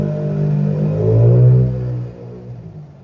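Motor vehicle engine revving with a deep, rumbling mid-frequency drone that swells to a peak near the middle and then settles back, steady and fairly loud, with no talk over it.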